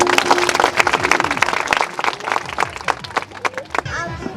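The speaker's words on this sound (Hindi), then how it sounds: "ताली बजाइए आपको" An audience claps at a Christian village wedding ceremony in Mainpat, Chhattisgarh, producing a burst of scattered, close applause mixed with voices talking over it.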